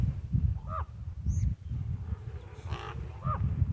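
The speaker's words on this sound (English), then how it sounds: "These crows are flying around, and it literally sounds like one of them's a drone." A few harsh, scattered crow caws ring out over a steady low rumble of wind, somewhat distant, outdoors at a scenic viewpoint in Arizona.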